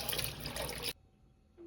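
Water splashes and runs as lentils are washed for haleem, a loud steady rush that cuts off abruptly partway through, leaving a quiet room tone and a faint short hum.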